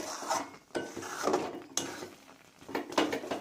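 Semolina halwa stirred continuously in a pan over a very low gas flame, with a scraping, clinking utensil against metal coming in repeated uneven strokes, close and moderately quiet, no talking.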